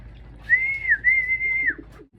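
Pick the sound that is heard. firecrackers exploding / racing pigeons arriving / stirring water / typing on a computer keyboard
racing pigeons arriving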